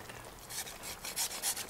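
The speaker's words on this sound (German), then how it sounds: "Dazu nehmen wir eine Kartoffel, eine Reibe und reiben sie." A raw potato is rubbed against a kitchen grater in quick, raspy scraping strokes, close and clear with no voices, while a hearty stew is being made.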